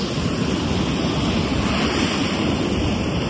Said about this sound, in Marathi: या लाटा